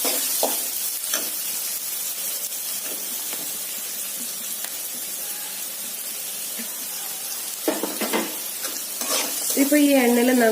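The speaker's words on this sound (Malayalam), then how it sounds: "നമ്മൾ സവാളയും പച്ചമുളകും ഇതിലേക്ക് ഇട്ട് കൊടുക്കും." Sliced onion and green chillies fry in hot oil after mustard seeds, giving a loud, close, continuous sizzle with occasional stirring scrapes and a brief voice near the end.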